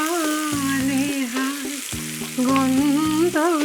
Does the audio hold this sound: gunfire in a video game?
no